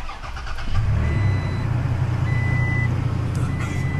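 A Toyota Tacoma truck is started by push button in cold weather: a brief crank catches within a second, then the engine settles into a loud, steady idle close by.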